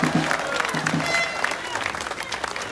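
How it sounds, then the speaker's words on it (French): An audience at a Les Patriotes political rally applauds, dense clapping mixed with crowd noise and a voice or two, fairly distant and moderately loud, continuing throughout. "On peut applaudir très fort"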